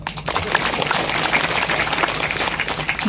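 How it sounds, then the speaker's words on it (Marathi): An audience at a devotional kirtan discourse in Mandka breaks into sustained clapping, a dense, steady wash of many hands at close range that fills the whole stretch without pause. "राम मर्दा करता टाळी वाजवा"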